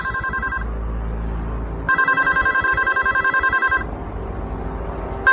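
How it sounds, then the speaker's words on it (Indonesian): A telephone in a Bali hotel room rings loud and close in two long electronic trilling bursts, and a third ring starts at the very end. "Ada suara telepon berbunyi di kamar itu."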